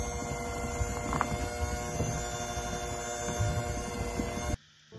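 A steady whirring hum from an electric hand mixer beating cake batter, continuous and fairly loud, cutting off abruptly just before the end.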